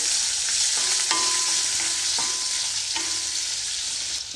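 Paneer cubes fry in hot oil and ghee with a loud, constant sizzle, and a few sharp clinks from a spoon or pan sound through it; no voices.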